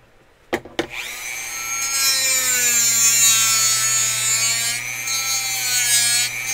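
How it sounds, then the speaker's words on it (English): Dremel rotary tool grinding a part during a model build, a steady high-pitched whine with strong harmonics that holds for several seconds after two quick knocks at the start, loud and close with no talk. "Here we go with the Dremel."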